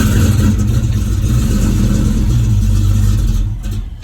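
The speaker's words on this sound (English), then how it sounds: "the car cranks over beautifully, but we get no fire" A 1983 Ford Mustang with an EFI swap cranks over hard without firing, a loud, steady, rhythmic starter-driven engine churn close by that carries on for most of the stretch before dropping off near the end.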